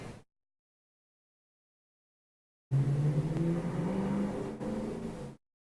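A race car engine on a race track drones and shifts pitch up through the gears for a couple of seconds after a long gap of silence, loud and near, with no speech.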